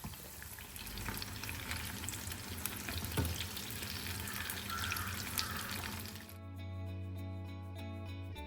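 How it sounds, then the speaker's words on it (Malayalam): Marinated chicken pieces fry in a pan, giving a steady bubbling sizzle with occasional small clinks for about six seconds before it gives way to a quieter, humming background. No one speaks. "ഇനിയിപ്പോൾ ഇത് നമ്മൾ നേരത്തെ മിക്സ് ചെയ്ത് മാറ്റി വെച്ച ചിക്കനില്ലേ അതെല്ലാം ഓരോന്നായിട്ട് ഫ്രൈ ചെയ്തെടുക്കാം"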